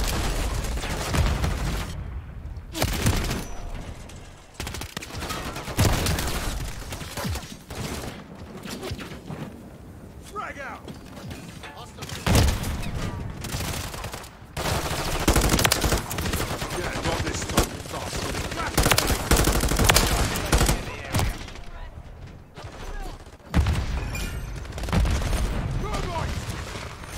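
Turret gunfire in a hardcore team deathmatch of Call of Duty: Modern Warfare III, repeated loud bursts of automatic shots and booms in close succession, with a voice talking between them.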